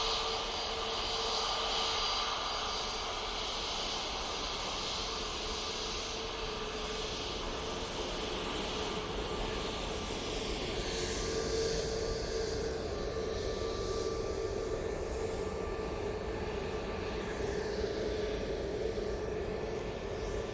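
A passenger airliner departs Manchester Airport bound for Faro, running late, its steady broadband jet roar with thin engine whine holding loud and unbroken for the full length, with no voices.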